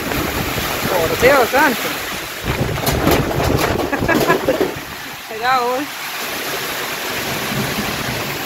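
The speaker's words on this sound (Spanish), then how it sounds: "Está lloviendo bastante fuerte" Heavy rain and strong gusting wind roar steadily and close by at an outdoor work site, with someone speaking Spanish over the din.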